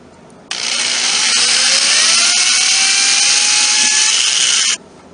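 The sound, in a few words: drilling hinge pilot holes in wood with 5/64 inch bit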